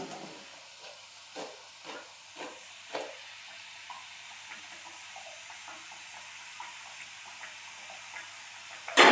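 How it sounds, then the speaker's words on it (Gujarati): Pieces of churma dough frying in oil over a low gas flame, a soft steady sizzle and hiss with a few faint clinks early on and a brief louder knock at the end. "ધીમા ગેસે જ આપણે તળવા દેશું."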